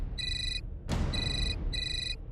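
An electronic telephone ringtone trills in three short repeated bursts, clear and close, with a sharp noise burst between the first two rings and no talk.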